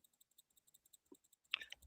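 A name wheel spun for a prize draw gives a run of faint, evenly spaced ticks that slow down, then ends in a louder burst of clatter.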